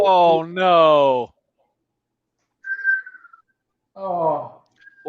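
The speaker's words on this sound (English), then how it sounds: "Did y'all see the long whistle I went?" A person whistles a long, sustained note at a UFC 261 fight watch party, then a few shorter whistled pitches follow after a pause, close and clear with no talk over it.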